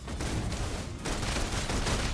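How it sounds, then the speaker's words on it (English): Sustained rapid gunfire in the video game Love and Deepspace, a dense continuous rattle of shots, fairly quiet, briefly thinning near the middle before resuming. "Requesting full suppression gunfire."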